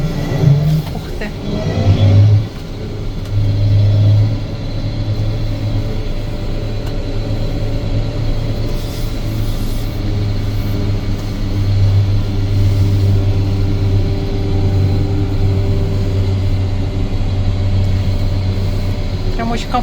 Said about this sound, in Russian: А мне также удалось прокатиться в кабине этого комбайна